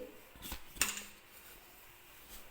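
A metal pressure cooker is set down on the stove with a couple of faint clinks and a sharper knock, quiet kitchen handling in an otherwise still room.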